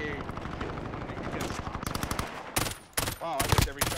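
Gunfire in Call of Duty Modern Warfare: rapid automatic bursts, loud and close, building into heavier, choppier volleys toward the end.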